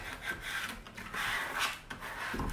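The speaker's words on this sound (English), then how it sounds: "I'm just giving it a good scrape," Vinyl transfer tape being scraped onto a wooden shelf, a close, continuous rasping rub in several quick strokes with no talking.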